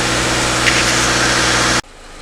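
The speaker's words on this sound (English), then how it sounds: "it's been around a couple of minutes now and idle pretty good, and the engine's warm up" A 2013 Subaru Impreza engine idles warm with a loud, steady, even drone that cuts off abruptly near the end, leaving a quieter background.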